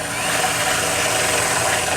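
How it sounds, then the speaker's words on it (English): An electric drill fitted with a file bit grinds a hole wider in the frame of a 2018 Chevrolet Express van during a trailer hitch install, a loud, steady, unbroken rasping whir. "I'm going to be using a file bit on my drill just to make it a little bit quicker"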